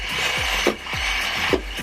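A whisk beats golden castor sugar into a mixture in a bowl for a yule log, with repeated scraping, rubbing strokes against the bowl at a quick, fairly even rhythm, close up.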